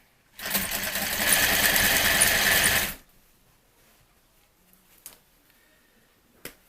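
A sewing machine runs in one sustained, close burst of about two and a half seconds while stitching a box style swag, then stops, followed by near silence with a couple of small clicks.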